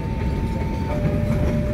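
KA Pandalungan passenger train on the Jember–Gambir route rolls past on a railway branch south of Sidoarjo station, a steady close rumble of wagons on the tracks with a faint high tonal whine throughout.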